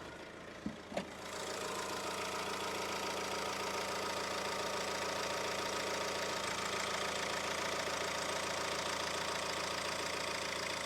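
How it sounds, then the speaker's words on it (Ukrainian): A couple of clicks, then the cold 1.6 diesel engine of a 2016 Honda CR-V with a manual gearbox catches and settles into a loud, steady clattering idle, heard up close with no talking. "покажу, як працює наш двигун на холодну"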